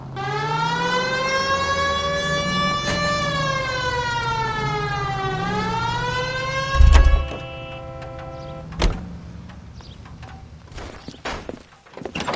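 Police car siren in the L.A. Noire video game, a loud rising and falling electronic wail sounding alone and continuously, then cut off, followed by a couple of dull thumps.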